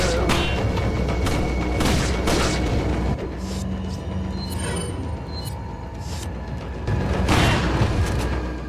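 Shotgun blasts in Resident Evil 4 (2005) gameplay: loud, heavy booming reports, one around the start and another near the end, layered over a constant dense game soundtrack and ambience.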